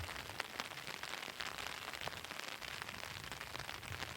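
Steady rain falling outdoors on an open ridge during an elk hunt in foggy weather, a dense continuous patter with scattered louder drops and no talking.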